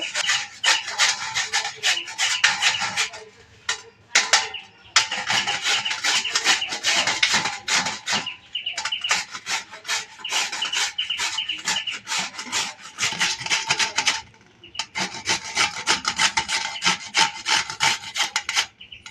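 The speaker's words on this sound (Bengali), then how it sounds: "পেঁপেটা আমরা ভালোভাবে ধুয়ে নিয়েছি নিয়ে এবারে ঘষে নেব" Raw papaya is grated by hand in brisk rhythmic strokes, a dense scraping rasp repeated in steady runs with brief pauses between, loud and close.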